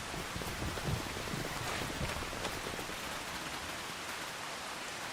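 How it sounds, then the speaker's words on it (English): Steady hiss of rain pours down in a Farming Simulator 25 storm, a dense, even wash of falling drops that holds at a constant level throughout, with no voices over it. "It's raining."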